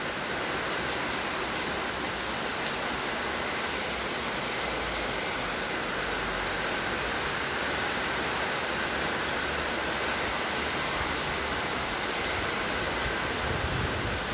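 A violent downpour in Athens with strong wind, heavy rain pouring and drumming on surfaces in an unbroken, close roar that holds steady throughout, with no one speaking.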